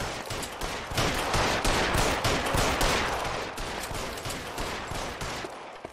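Video game gunfire, a dense continuous barrage of rapid automatic shots and overlapping bursts lasting several seconds, loud and close, slowly easing toward the end with no speech over it.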